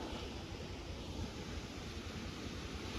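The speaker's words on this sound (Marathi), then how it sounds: "इथून वरतून जो वॉटरफॉल सुरू झालाय मित्रांनो तो डायरेक्ट इथे खाली रस्त्याला बघा रोडला" Heavy waterfall at Tamhini Ghat pouring straight down onto the road, a dense, steady roar of rushing water, close and constant with no pauses.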